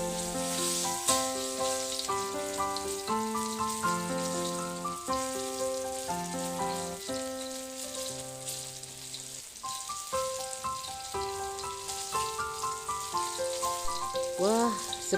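Pieces of lampan fish coated in tapioca flour fry in hot oil, a steady dense sizzle and crackle close by, running continuously under soft background music.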